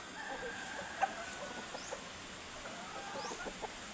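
Chickens in a backyard chicken coop clucking faintly from a distance, scattered soft clucks and brief calls over a steady hiss of ambient noise, with one slightly louder cluck near the start.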